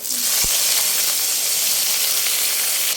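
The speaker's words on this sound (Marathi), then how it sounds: "मिरची छान फ्राय झालेली आहे त्यामध्ये आता आपण हे चिरलेले जे कांदे आहेत ते टाकून घेणार आहोत" Chopped onions dropped into hot oil, already fried with chillies, for Rajasthani dal baati churma, giving a steady loud sizzle and hiss with a brief clatter at the start.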